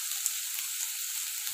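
Ground spices with cumin powder fry in oil for an elephant foot yam curry, making a steady, airy, high sizzle with faint crackles, close and moderately quiet.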